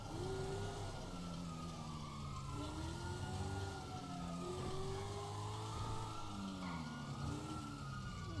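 Police sirens in the video game GTA 5, several wailing sirens rising and falling over one another continuously along with engine rumble, loud and close throughout.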